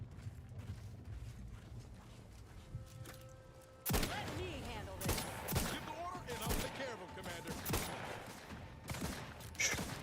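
Gunfire in the video game The Outer Worlds 2: a quiet stretch gives way to a run of sharp shots with mechanical clicks and reload noises, heard under a player's talk.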